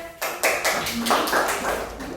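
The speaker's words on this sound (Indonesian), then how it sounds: "Silakan dulu tepuk tangannya dulu semuanya." Students in a classroom clap in a quick, steady rhythm of evenly spaced bursts during a microteaching science lesson on the circulatory system, moderately close and under a busy room.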